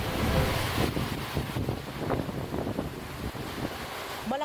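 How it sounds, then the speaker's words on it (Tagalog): Strong wind and heavy rain in Laoag, Ilocos Norte during a tropical storm bring a steady, loud roar of gusts and pouring water that holds throughout, with no voices. "Malakas na ulan at hangin ang naranasan sa ilang bahagi ng Lawag, Ilocos Norte."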